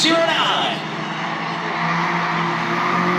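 Race cars roar around the Beechridge track during Thursday night racing, a loud engine howl with a sweeping pass near the start, under fast commentary.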